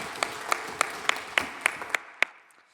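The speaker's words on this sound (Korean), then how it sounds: "우리 하나님 아버지께 영광의 박수를 올려드립니다." A church congregation at a Wednesday worship service gives a short round of applause: distinct, evenly spaced sharp claps ring out about every third of a second, then stop abruptly and leave a fading reverberant tail.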